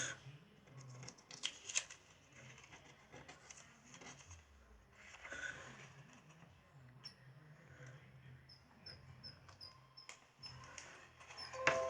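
Scissors snip and trim fabric around the stitching of an in-the-hoop embroidered Valentine's treat bag, with quiet irregular cuts and rustling close by and no talking.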